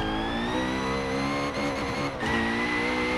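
A Koenigsegg Agera RS in Forza Horizon 4 screams at high revs, its steady harmonic engine whine holding close and loud with a brief dip and recovery as it pulls hard, no talking over it.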